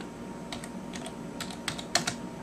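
Someone types commands on a computer keyboard at a terminal for a Raspberry Pi Linux setup, a run of light, irregular key clicks close by with a few sharper taps near the end.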